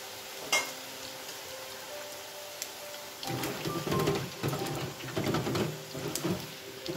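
Homemade tortilla chips crackle and sizzle in hot oil in a pan, with a steady frying hiss and sharper clatters as tongs stir them around in the second half.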